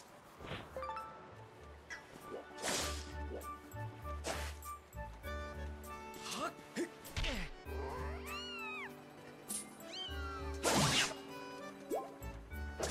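Cats meow repeatedly in Zelda Skyward Sword, several rising and falling mews over game music and sound effects, some louder and closer than others.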